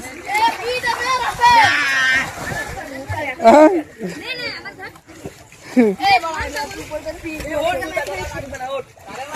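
Water splashing in a village pond as a boy named Mojahid learns to swim, irregular splashes near the bank with children and adults talking over them.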